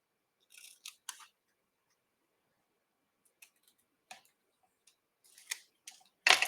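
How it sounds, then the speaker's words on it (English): Scissors make a few quiet, close snips while cutting around a piece of card for a handmade Christmas card, the crisp cuts sparse and separated by silence. "So I'm just cutting around it."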